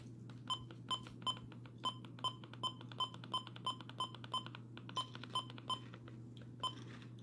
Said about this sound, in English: the button beeps on the version 2 Midland WR400